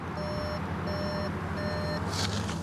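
A 2020 VW e-Up electric car gives three evenly spaced, clear warning beeps over a steady cabin hum.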